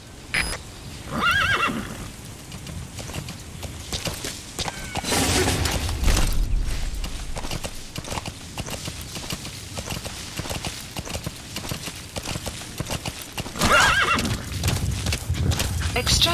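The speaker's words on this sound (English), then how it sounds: "Use your horse." Horse whinnies and clip-clopping hooves from the video game Metal Gear Solid V, with a couple of loud neighs and a steady gallop of hoofbeats close by, mixed with game sound.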